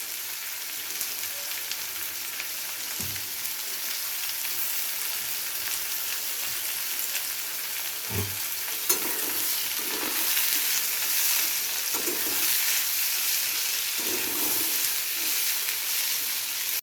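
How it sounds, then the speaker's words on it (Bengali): Sliced onions fry in hot oil for egg korma, a steady close sizzle with occasional stirring scrapes and soft thumps of a spatula. "এবারে এই পেঁয়াজটাকে আমাদের একদম বেরেস্তার মতো করে কিন্তু ভেজে নিতে হবে।"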